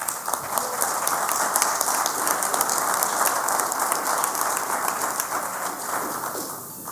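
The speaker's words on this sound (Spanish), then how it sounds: "pediría un fuerte aplauso para él" A conference audience at a Spanish-language history event applauds a speaker, a dense sustained round of clapping that stays loud and even before easing slightly at the end.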